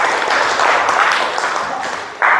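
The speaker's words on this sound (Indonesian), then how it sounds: "berikan aplaus untuk kita semua" A classroom of students claps steadily together in a dense, loud round of applause that swells briefly near the end.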